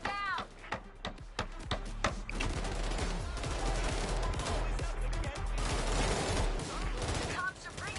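Loud, rapid gunfire aimed at snipers up on a roof, crackling in bursts and volleys over a busy game soundscape, with voices talking through it.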